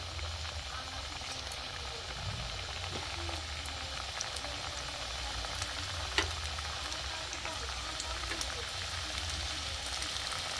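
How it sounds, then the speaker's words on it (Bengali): Even, continuous bubbling and crackling of gaja sweets deep-frying in oil, fairly quiet, with an occasional faint clink. "গজাগুলো ভাজা হচ্ছে, একটু লাল লাল করে ভাজবো"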